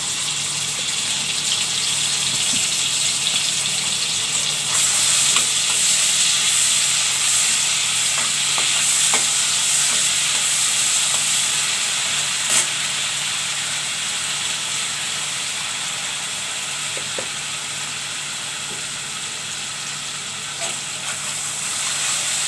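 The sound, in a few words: frying ginger garlic paste for chicken korma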